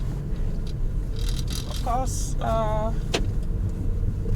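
A Peugeot 407 Coupé V6, converted from automatic to manual transmission, is driven while someone talks briefly. The engine hums steadily under the cabin noise, with a few short mechanical whines and clicks.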